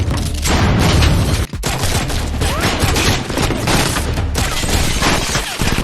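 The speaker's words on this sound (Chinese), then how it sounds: "一言不合就拿真枪实弹的干架" Dense, loud gunfire from a gunfight in an action comedy film, a husband and wife shooting at each other with real guns, rapid bursts and booms packed together with one brief gap.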